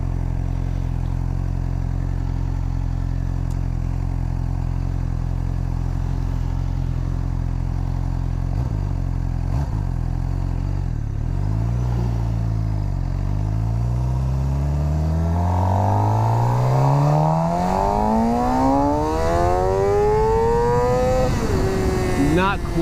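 A 2017 Suzuki GSX-R 600 sportbike revs hard in first gear on a closed course, its engine note climbing steadily to a high-pitched scream near the rider before a brief easing; no talking.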